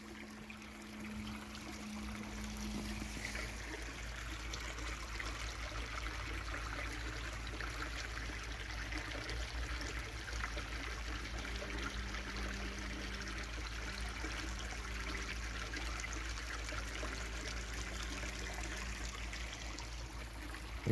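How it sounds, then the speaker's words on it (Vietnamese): A small stream flows steadily under a little bridge in a snowy landscape, giving a continuous, even rushing and trickling wash heard up close with no voices. "Chúng ta đang bước qua một cái cầu nhỏ và dòng suối nó vẫn chảy nha."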